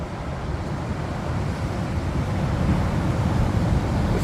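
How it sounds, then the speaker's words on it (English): Waves on the Lost Coast shoreline make a continuous broad wash that swells a little toward the end, with wind buffeting the microphone and no voices. "you're on the coastline, and all you hear is the waves"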